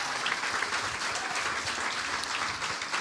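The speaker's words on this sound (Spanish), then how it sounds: "Un aplauso para ellos." Congregation applauding in a church in Barakaldo, Spain, welcoming a couple to the front, loud, full and sustained clapping from the whole room with no voices on top.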